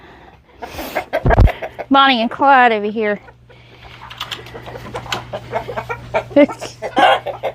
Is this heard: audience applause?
no